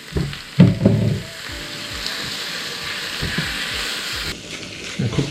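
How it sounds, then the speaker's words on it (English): Minced pork or beef frying in a pan, a steady sizzle throughout with scraping stir strokes, a louder clatter near the start and end. "Give it a quick stir to bring out the fragrance, the minced pork"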